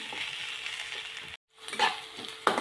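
Onion frying in hot oil for a traditional Marathi sandga rassa dish, a steady close sizzle with light stirring scrapes, briefly broken by a cut before the crackle resumes.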